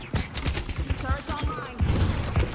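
Turret fire in the video game Deadlock: a burst of sharp, rapid gunshots close by, in quick uneven volleys across the moment, with a voice talking over part of it.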